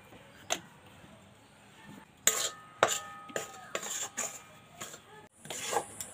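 A spoon scraping and stirring modak filling of sugarcane jaggery, grated coconut and cardamom powder in a pan: irregular scrapes and taps, some sharp strokes, close and alone with no talk.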